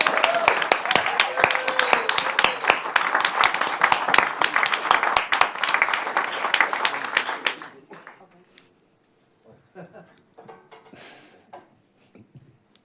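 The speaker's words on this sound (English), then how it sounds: "Give him another round of applause." Conference audience at a Britain First political event giving a round of applause, a loud crowd of clapping hands for about seven seconds that stops abruptly, leaving a quiet room with scattered faint noises.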